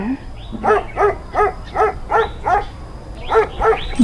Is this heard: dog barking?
yes